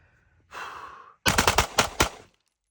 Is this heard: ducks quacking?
no